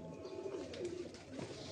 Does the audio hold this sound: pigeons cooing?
yes